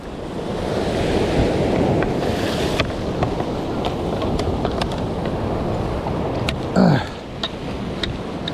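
Ocean waves and wind at sea aboard a fishing boat, a constant broad surf roar with buffeting wind noise and a brief louder splash near the end.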